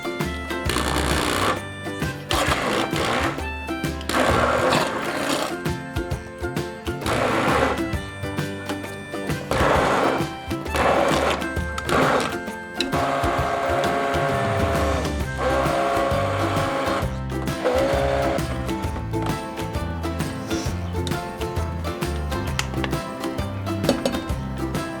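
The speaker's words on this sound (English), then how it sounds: "Use an immersion blender to blend well until creamy." An immersion blender whirs continuously through butternut squash soup with cream cheese, a loud, dense motor drone with a steady whine that shifts slightly in pitch as it churns.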